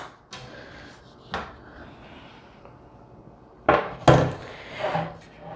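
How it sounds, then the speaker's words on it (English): A front panel drops out of a Thermaltake Level 20 HT PC case, heard as a few separate knocks and clatters of plastic and metal parts, with the loudest pair of hits near the end. "this front panel here just drops out"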